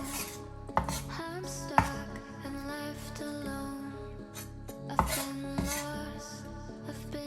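A knife chopping garlic on a cutting board while Chinese chicken fried rice is made: a few sharp, separate knocks against steady background music, with no talking.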